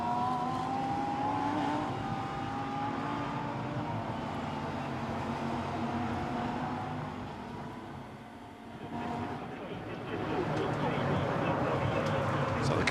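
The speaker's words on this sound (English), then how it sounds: "So the car's down through Pouhon, and Alberto Di Folco" A Lamborghini Super Trofeo race car roars past at Spa during a race, its high engine whine sweeping and changing pitch, dipping briefly before swelling again, with a commentator talking over it.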